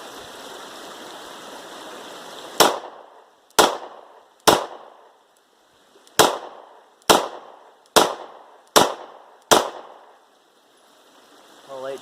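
Eight sharp, loud pistol shots ring out from a Glock 43 fitted with a Terran Tactical +2 magazine extension, fired outdoors in an uneven rhythm, each crack decaying quickly over a steady background of running water.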